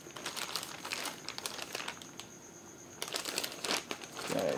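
A plastic bag around a Sharp Vision FPV DVR monitor crinkles continuously in bursts of crisp rustling during unpacking, close and fairly quiet, with a brief pause midway and no voices.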